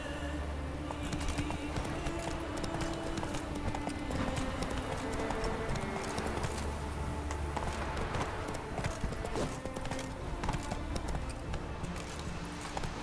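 Roach, the horse in The Witcher 3 video game, galloping in a rapid steady clip-clop of hooves that runs continuously and close under a low game soundscape, with no talk.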